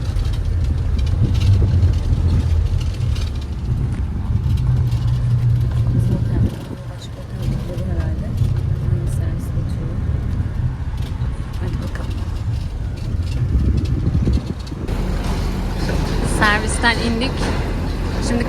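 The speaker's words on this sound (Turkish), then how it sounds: "Şimdi oteldeki diğer insanlarla birlikte ben de otobüse biniyorum" A hotel shuttle bus drives through Medina toward the Prophet's Mosque, its low engine rumbling steadily throughout while voices talk inside the cabin.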